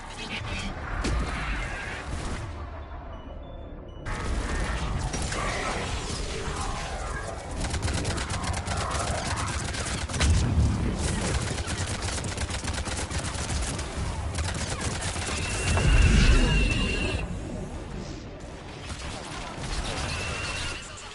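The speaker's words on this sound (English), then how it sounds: "Missiles are hot. That's it for the missiles." An air support missile strike and gunfire in Mass Effect 3 hit amid battle noise. Dense, rattling bursts of fire build into heavier blasts around the middle and again toward the end, with voices talking over the combat.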